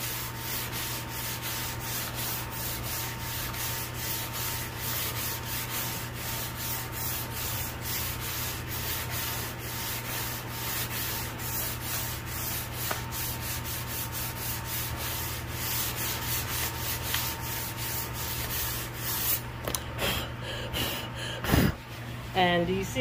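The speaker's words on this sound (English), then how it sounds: "I'm going to sand it. I'm just lightly pressing." A piece of furniture with wood filler is sanded by hand with light pressure, producing a continuous close rubbing scrape with rapid back-and-forth strokes, under steady background hum and some breathing.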